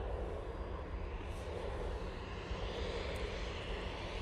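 A Loganair ERJ regional jet lines up on the runway at Manchester Airport, its engines a steady, broad distant roar with faint rushing wind.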